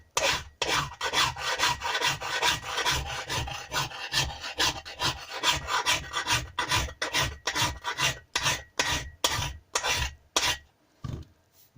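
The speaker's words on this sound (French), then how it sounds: "Vous l'attaquez directement à la lime." A hand file scrapes scratches off a metal car bumper in repeated rhythmic strokes, each rasping pass separated by brief gaps, close and clear with no talking.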